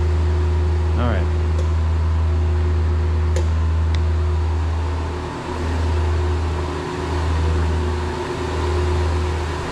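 A vacuum drones steadily and loudly on rubber fitting attachments, its low motor hum dipping in pitch a few times, with faint clicks and a voice speaking over it.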